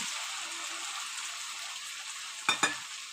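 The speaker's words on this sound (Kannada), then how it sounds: "ರುಬ್ಬಿರೋಂಥ ಮಸಾಲೆನ ಮತ್ತೆ ಅದು ಬಾಣಲೆಯಲ್ಲಿ ಹಾಕ್ಕೊಂಡು ಸ್ವಲ್ಪ ಫ್ರೈ ಮಾಡ್ಕೋತೀನಿ" Ground masala frying in a pan for a palak chicken gravy, a close, steady high sizzle throughout, broken near the end by two quick louder spatters or stirring scrapes.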